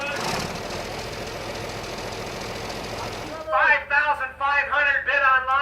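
A 1966 John Deere 4020 tractor engine runs at a farm machinery auction, a low steady rumble under an auctioneer's fast chant that takes over after a few seconds.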